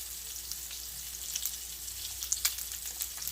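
Lamb and scallops fry quietly in a pan as they are flipped, giving a soft, continuous sizzle with a few faint crackles and light pops.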